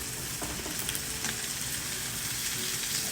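Vegetables added to a hot pan for SPAM fried rice sizzle and crackle loudly and up close, with light stirring and scraping throughout.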